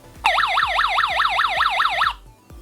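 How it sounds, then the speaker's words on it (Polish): A loud electronic alarm from a Xblitz DG3-1 gas detector, set off by leaking gas, warbles rapidly up and down in a steady repeating pattern for about two seconds, then cuts off abruptly. "teraz cały czas jakby ten alarm będzie się rozlegał"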